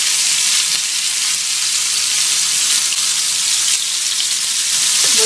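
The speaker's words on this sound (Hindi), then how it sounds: "इस तरह से हमने ये जो सारे कबाब हैं वो लाइट लाइट से हमने ब्राउन कर लेने हैं, फुली कुक नहीं करना" Beef dum kebabs fry in a pan with a loud, dense, steady sizzle close up, a continuous crackling hiss with no speech over it.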